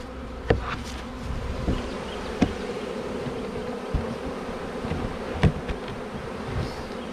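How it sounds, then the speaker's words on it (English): Wild bees from a cedar tree buzz around a wooden hive box, fanning at the entrance: a steady, dense swarm drone close by, with a few louder individual bees passing near at intervals. "What these bees are doing is they're fanning the scent from the hive to all of the other bees"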